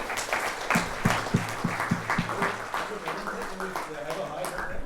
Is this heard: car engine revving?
no